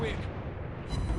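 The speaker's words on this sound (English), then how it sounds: "One more salvo. He's done. Swing the guns around." Heavy naval gun salvo in a warship combat video game, a dense booming roar filling the whole short span, with a voice talking over it.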